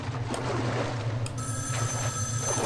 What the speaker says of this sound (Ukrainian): Телефон дзвонить.